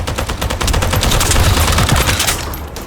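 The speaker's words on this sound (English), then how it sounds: "That stopped the gunfire." Dense automatic gunfire in the video game The First Descendant rattles continuously and loudly for a few seconds, many rapid shots blurring together.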